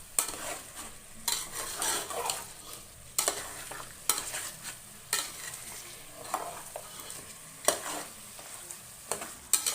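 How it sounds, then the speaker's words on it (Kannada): Mutton sizzles steadily in a pan of tempering while a utensil scrapes and stirs it in repeated bursts, close up with no talking. "ಸೇರಿಸ್ಕೊಂಡು ಒಗ್ಗರಣೆಲೆ ಒಂಚೂರು ಫ್ರೈ ಮಾಡ್ಕೊಂಡು"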